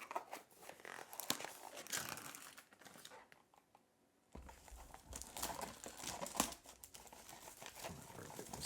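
A 2025 Panini Mosaic trading card pack being torn open, with bursts of crinkling foil and tearing wrapper, brief pause, then more close crackling handling.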